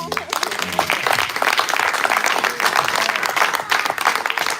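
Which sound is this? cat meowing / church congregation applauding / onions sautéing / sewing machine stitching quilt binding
church congregation applauding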